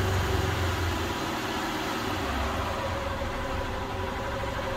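A motorcycle engine with a modified silent camshaft idles steadily close by, a continuous low throbbing hum with a faint even mechanical ticking and no speech.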